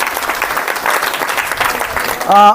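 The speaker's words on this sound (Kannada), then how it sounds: "ಅವರಿಗೊಂದು ಸಲ ಜೋರಾದ ಚಪ್ಪಾಳೆಯನ್ನು ತಟ್ಟುತ್ತಾ" An audience at a felicitation event during a religious foot pilgrimage breaks into brief, dense clapping, cut off by a voice at the end.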